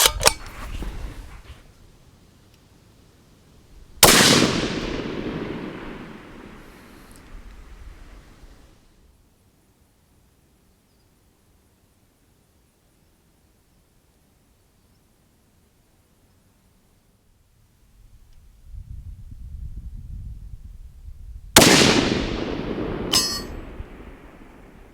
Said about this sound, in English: let's just see if we can get 5 shots on target there